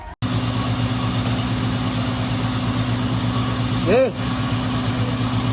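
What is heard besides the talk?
Toyota Innova engine started and idling during turbo/EGR cleaning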